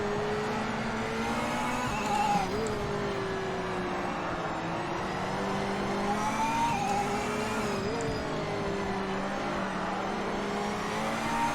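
Race car engine in the Project Motor Racing video game, a continuous whining drone that climbs and drops through gear changes, steady and alone with no talk.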